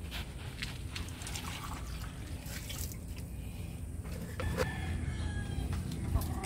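Gamefowl rooster and chickens bought at the International Game Fowl Festival cluck and call steadily at close range over a constant outdoor hum, with a louder burst of activity toward the end.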